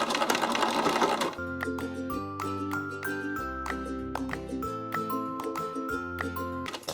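Sewing machine backstitching while stitching shirring on a dress, a steady mechanical needle rattle running at close range, its pitch shifting as it stops and restarts, after a short burst of rustling at the start.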